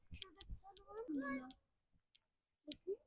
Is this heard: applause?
no